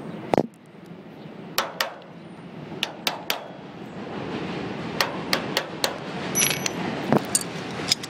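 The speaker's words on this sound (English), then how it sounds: "Now, what I'm going to do is hit this right here with a chisel." A hammer drives a flat-tipped chisel against a trailer axle bearing, landing about a dozen sharp metallic strikes at an uneven pace over a low background hum.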